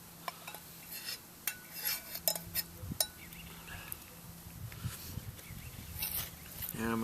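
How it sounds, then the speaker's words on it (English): Drained spaghetti noodles getting a pasta sauce poured over them and stirred, with scattered clinks and scrapes of utensils against a pot, uneven and moderately close, and a voice talking over parts of it. "I'm going to dump the sauce in here."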